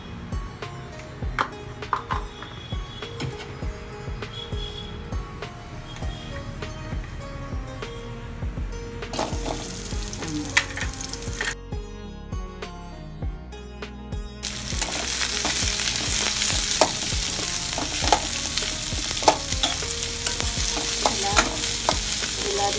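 Onions, coconut and garlic roast in a little oil in a pan, giving a steady sizzle with occasional scraping stir strokes and clinks. The frying grows louder and denser partway through.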